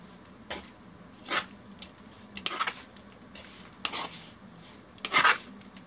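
Scallops get stirred into a Kashmiri chili powder marinade in a bowl, giving a series of soft, separate scraping and clinking strokes of utensil against bowl, spaced about a second apart, fairly quiet and close.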